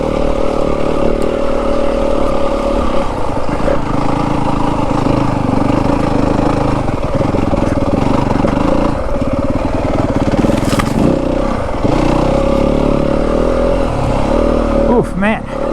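A 2025 Yamaha WR250F dirt bike engine lugging in second gear on a snowy Dragoon Mountains trail near Pearce, Arizona, a close, steady low drone with throttle surges and scraping, under a rider's intermittent talk.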